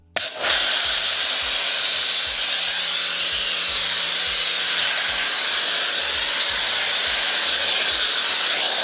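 Pressure washer forcing foam through a foam cannon, a loud, continuous close-up hiss that starts abruptly and holds steady throughout, with a faint regular low pulsing beneath it.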